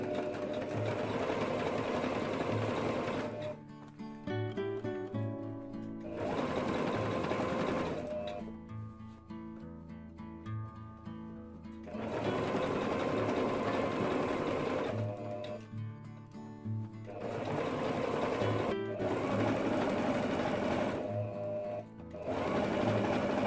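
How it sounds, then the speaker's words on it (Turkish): A sewing machine runs a zigzag stitch through leather rug pieces in loud, steady, rapid bursts, stopping and restarting several times with quieter gaps of handling between runs. "şimdi buradan zikzak dikiş yapacağım."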